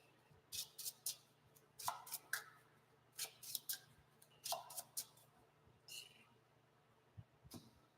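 Tabletop card game session: a deck of cards is shuffled at a table, short crisp riffling bursts repeating in a loose rhythm, close by and fairly quiet with faint background hum.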